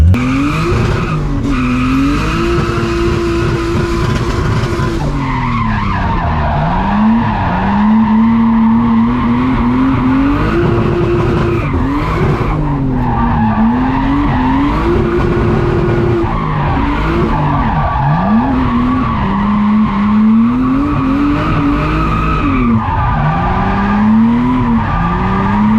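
A rebuilt RB25-engined Nissan S13 drifts on a slippery winter track, tires squealing in long continuous howls as the engine note rises and falls with each throttle stab, loud and close throughout with no talking.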